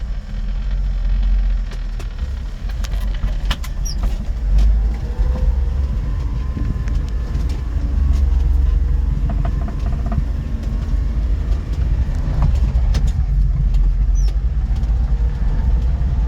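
A 1994 Honda Acty mini truck with 23,700 miles drives along, steady low engine drone and road rumble heard from inside the cab, constant and fairly loud, with occasional faint rattles and no talk.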